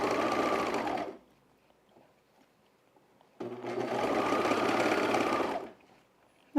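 Sewing machine stitching stretch fabric for men's underwear in two steady runs of about a second and two seconds, separated by a quiet pause, loud and close, with a brief knock at the end.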